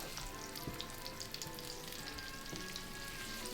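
Steak or vegetables sizzle steadily in a hot pan, a dense even crackle with a couple of soft scrapes from stirring, close and continuous with no one talking.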